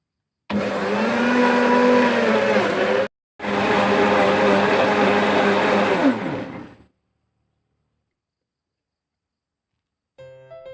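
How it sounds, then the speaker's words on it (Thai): A blender whirs loudly blending dragon fruit and yogurt in two bursts separated by a brief pause, then cuts out to silence before a faint sound returns at the end. "นำส่วนผสมทั้งหมดใส่เครื่องปั่นนะ ปั่นให้ละเอียด"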